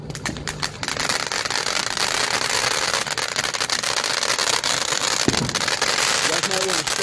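A Sound Hashira hybrid firework fountain with salutes burning outdoors, a dense continuous roar of crackling sparks with sharp bursts, one louder bang near the end, under faint voices.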